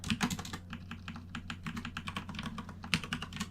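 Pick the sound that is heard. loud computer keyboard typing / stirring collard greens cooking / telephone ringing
loud computer keyboard typing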